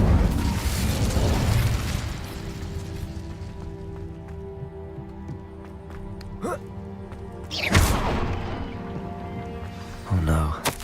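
A fiery whooshing burst from the Incendio fire spell in Hogwarts Legacy opens loud and roaring, then fades into a quieter hum, with further sharp pops and bursts later and a voice speaking in between.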